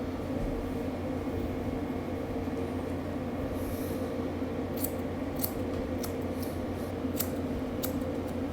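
Scissors snip hair during a drop fade haircut, a series of crisp, close cuts in the second half over a steady low hum, with no talking.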